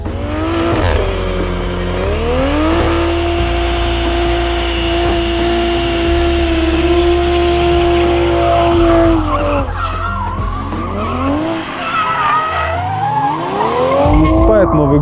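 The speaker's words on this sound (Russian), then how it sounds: "я сделал офигенный бернаут" A Toyota Supra A90 drift car does a burnout, its engine revving loud and steady with a rising and falling pitch over continuous tyre squeal, close by and dominating throughout.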